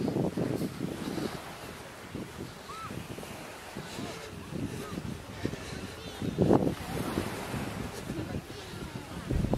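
Sea waves breaking and gusting wind at the Ksar es-Seghir coastal ruins near Tangier, a steady rushing roar with louder surges, wind buffeting the microphone throughout.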